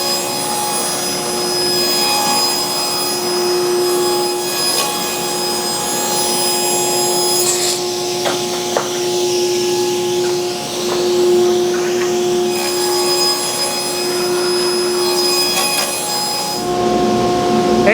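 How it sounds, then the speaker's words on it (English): A saw rips one-edged boards down to 3-inch widths at an off-grid cabin outhouse build, a loud, continuous machine drone with a steady whine that runs the whole time, rising slightly during cuts, with no talking. "There's a pile of one-edged board. Now I can rip them down to 3-inch."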